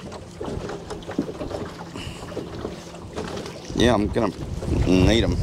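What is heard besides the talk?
strong wind outdoors while fishing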